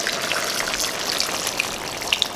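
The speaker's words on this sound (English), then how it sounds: "Now I'll add the hot water" Hot water is poured into a pot of curry catfish cooking on high heat, giving a close, continuous splashing hiss with small bubbling pops and sizzles scattered through it.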